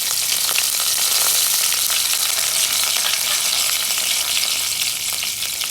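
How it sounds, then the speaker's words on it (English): Curry leaves and green chilies hit hot oil with cumin seeds in a pan, giving a loud, continuous crackling sizzle with fine spitting pops and no voices. "Let it sizzle."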